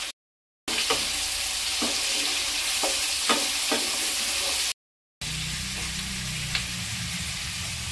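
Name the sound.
tomatoes frying in a pan for sambar dal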